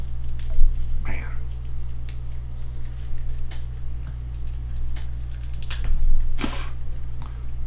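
Plastic shrink wrap is torn open on the cards of a Last Night on Earth 10th anniversary board game, producing crackly, uneven rips and crinkles close by over a steady low electrical hum.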